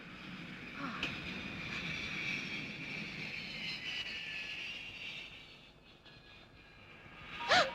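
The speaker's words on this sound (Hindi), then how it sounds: "कुछ ही देर में हमारा विमान हॉलैंड की राजधानी एम्स्टर्डम पहुंचेगा" Steady airliner cabin roar during descent toward Amsterdam, a continuous broad engine and air rush with a brief sharper sound near the end.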